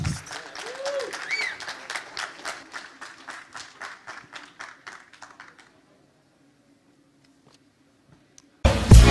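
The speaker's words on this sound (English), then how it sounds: "Give him a round of applause." An audience at a Cosmos ecosystem conference in Medellín applauds as a speaker is called on stage; clapping rings loud at first, then thins and fades out, leaving a long near-silence before a sudden loud burst at the end.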